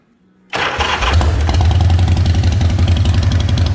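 A handmade chopper motorcycle engine fires up after a brief quiet moment, catching abruptly and settling into a loud, steady, lumpy idle close by, with no talking over it.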